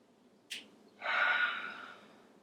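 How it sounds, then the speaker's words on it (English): Breathing during yoga practice: a brief sharp intake, then a longer soft breathy exhale, close and quiet against a still room. "just breathe a couple of breaths here"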